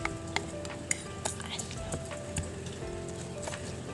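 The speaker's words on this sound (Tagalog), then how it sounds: "Halo-haloin lang natin to." Sea cucumber kinilaw being mixed with pepper in a bowl, giving irregular clinks and scraping taps of a utensil against the dish at close range, with wet stirring in between.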